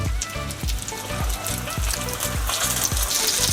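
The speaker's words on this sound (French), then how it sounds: "on va les poser déjà disposer en rosace dans la poêle. Observez bien. Ça commence à frémir." Gyoza dumplings frying in hot oil in a pan, arranged in a rosette, give a loud, continuous sizzle and crackle close up, with low rhythmic thumps running under it.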